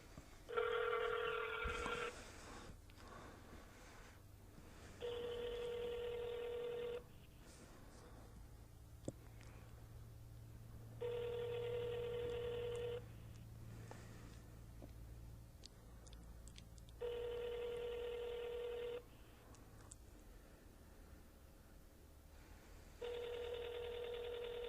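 A telephone call rings out unanswered: five evenly spaced ring bursts, each about two seconds long, separated by quiet gaps, heard clearly through a phone line.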